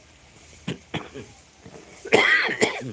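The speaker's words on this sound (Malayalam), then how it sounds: "കാലാവസ്ഥയിലെന്ന് പറഞ്ഞു ചുമ പിടിച്ചു" Several short, dry coughs come in a scattered series, ending with a louder, harsher cough, close and otherwise quiet.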